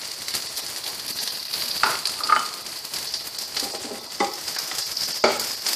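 Chopped onion sizzles and crackles in hot coconut oil while tempering a raw mango curry in coconut milk, a steady close-up hiss with a few sharper pops and stirring scrapes.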